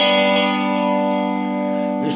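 Lap steel guitar plays a country shuffle pattern on strings 3 and 4, sustained bright tones ringing steadily with a warm effected sheen, loud and alone.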